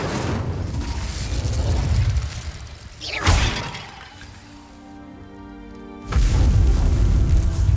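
A fire spell in Hogwarts Legacy bursts with a loud boom and shattering crackle, then fades into a quieter tonal hum before another heavy rumbling burst swells up near the end.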